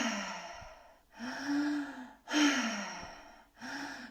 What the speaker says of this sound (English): Exhale fully.